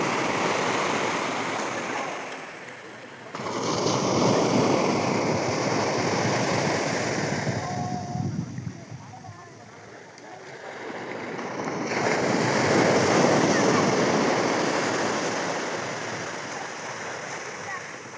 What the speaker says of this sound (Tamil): அலை பெருசாக வருது.